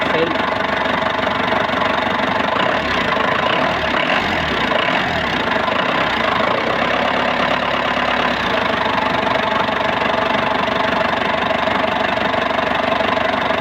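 Ford engine from an Explorer, Everest, Ranger or Raptor with a no-start fault, turning over and then idling loudly and steadily nearby, a few low cranking thumps early on with talk mixed in.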